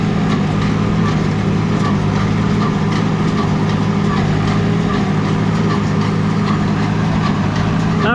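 A Case 730 tractor pulls a hay baler, its engine droning loudly and steadily throughout with faint rhythmic pulses from the baler's plunger strokes underneath.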